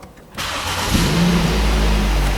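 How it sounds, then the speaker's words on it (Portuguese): A used car engine starting: brief quiet, then the starter catches and the motor fires up, settling into a loud, close, steady running drone with no talk. "Então vamos lá, nós vamos ligar o carro."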